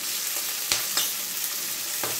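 Red chili, cloves and shallots frying in hot oil for sambal, a continuous dense sizzle with a few sharp crackles and stirring clicks. The sound is close, with no talking.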